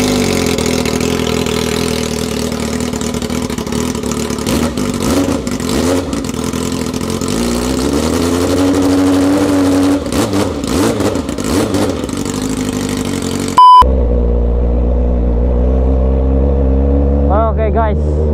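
A Yamaha R6 sport motorcycle runs up close on a short test ride, its engine revving and sweeping up and down in pitch over a steady drone, ending in a quieter idle with some voices.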